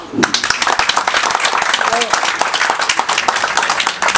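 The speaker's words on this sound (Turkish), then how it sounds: "Bir alkış istiyoruz." A crowd at a Turkish Film Week event claps in sharp, fast, individually audible hand claps that form steady applause, with a brief voice rising over it partway through.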